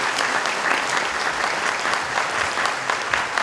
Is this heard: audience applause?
yes